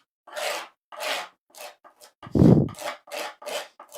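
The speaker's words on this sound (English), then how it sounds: "trying to clean that off of the palette knife" Palette knife scraped to clean paint off it during stencil crafting: a series of short, rough rasping strokes, close and fairly loud, in an uneven rhythm, with one heavier, deeper scrape near the middle.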